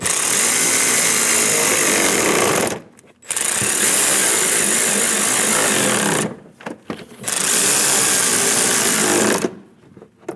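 Power tool snugging down shroud bolts on a Chevrolet Express 2500 van, loud continuous whirring bursts of about three seconds each, separated by brief pauses, with no talking.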